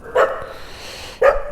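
A dog gives two separate barks about a second apart, outdoors at moderate distance at night, with no one speaking.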